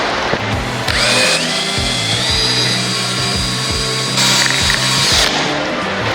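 Homemade composite marble resin being blended with a drill mixer, a loud, steady mechanical whir with a rattling, ratcheting pulse running throughout and a higher whine rising at moments, with no voices.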